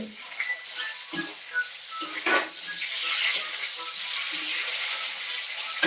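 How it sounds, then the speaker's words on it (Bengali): Steady hiss and crackle of fish frying in a pan, with occasional clinks of utensils, close and continuous. "এদিকে মাছটা সব ভাজছে"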